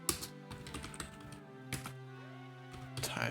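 Fingers tap a computer keyboard to enter a Linux package command, in quick bursts of clicks with short pauses, close and quiet.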